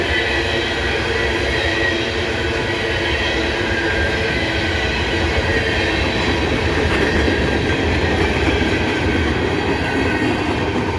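Close and loud, a BNSF intermodal freight train in Abbeville, South Carolina keeps rolling past as it slows, wagons rumbling steadily with a rhythmic clickety-clack of wheels over rail joints and faint squeal, with no talking.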